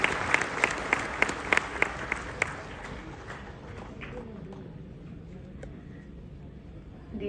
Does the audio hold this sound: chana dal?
no